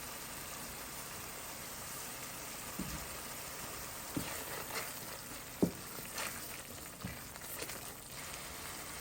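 Ginger-garlic paste for chicken biryani sizzles in a pan with a soft continuous hiss, broken by a few sharp scraping knocks from a spoon stirring it, fairly quiet and close.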